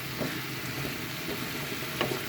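Vegetables frying in a pan while being stirred, a steady soft sizzle with a few faint scraping touches of the utensil.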